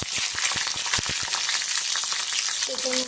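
Green chilies and curry leaves hit hot oil with mustard seeds for valichi bhaji, a Malvani dish: a dense, close sizzle with quick crackling pops at the start, then a steady hiss and a faint clink at the end.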